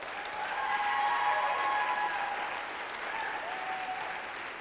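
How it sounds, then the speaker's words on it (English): A university audience at a chancellor's state of the university address claps steadily in a large room, a moderately distant, even wash of applause with faint cheers and no talking. "So let's give him a round of applause."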